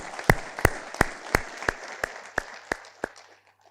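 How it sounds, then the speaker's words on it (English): Graduation ceremony audience applauding, heard as a steady series of about ten sharp, evenly spaced claps that fade toward the end, with no voices. "Please give them a round of applause."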